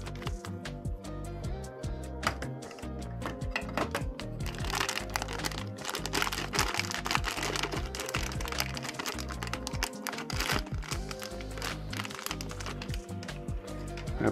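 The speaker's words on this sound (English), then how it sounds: "Let's cut the bag open here." A plastic bag around a nitro RC engine is cut open up close, with dense crinkling and crackling plastic and scattered sharp clicks throughout.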